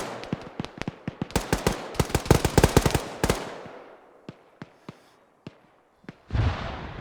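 Gunfire in ArmA 3, with a dense burst of rapid loud shots followed by slower scattered reports and a final rumbling blast.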